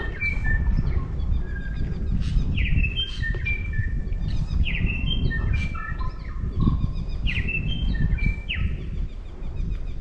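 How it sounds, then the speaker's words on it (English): Several birds sing and chirp high in a podocarp forest beside a lake, bright repeated whistles and trills scattered over a rumbling background of wind and water, moderately near. "we've got some bird song"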